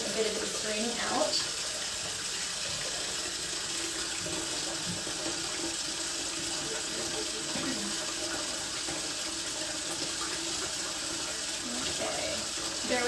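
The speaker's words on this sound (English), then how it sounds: "while I finish refilling the sink" Tap water runs steadily into a sink being refilled for soaking a wig, a continuous close splashing stream with no talk over it.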